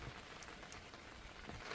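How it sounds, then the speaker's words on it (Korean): Steady rain pours down outside a house by the front gate during a thunderstorm, a dense constant hiss close by with no voices. "비가 오는데 왜 여기, 여기가 있어?"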